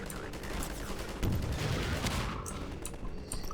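Continuous video-game gunfire in Half-Life 2 from a weapon fed by an infinite ammo box, a steady dense burst of shots with a heavier thump partway through, loud and close throughout.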